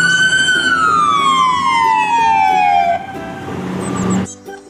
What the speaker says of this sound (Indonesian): ada satu mobil emergency ambulan